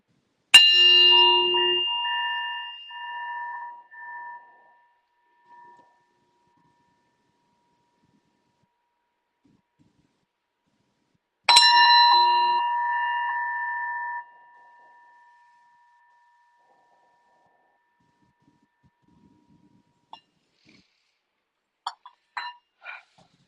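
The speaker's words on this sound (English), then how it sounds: "invite the two bells" Two meditation bells are struck during an online sangha gathering, each a clear bright strike followed by a long ringing decay, spaced about ten seconds apart, with faint small clinks near the end.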